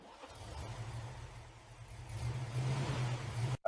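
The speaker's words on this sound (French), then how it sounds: "Regarde ça, c'est le dernier des V8." A V8 car engine idles with a deep, steady burble and then revs louder toward the end before cutting off abruptly; it sounds close and nobody speaks.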